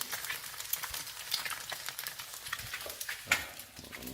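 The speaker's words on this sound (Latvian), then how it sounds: "Lūk, cepās manas pēdējās dienas brokastis" Close, busy sizzling and crackling of food frying in a pan, with scattered pops and a few scraping stirs.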